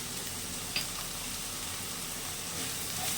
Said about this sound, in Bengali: দিয়ে ভালো করে নাড়িয়ে নিচ্ছি